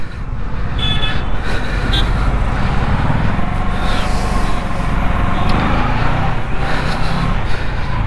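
Steady road traffic noise heard from a moving Kawasaki Versys 650 motorcycle, a constant loud roar of wind and engines with passing vehicles and faint horn toots in the mix.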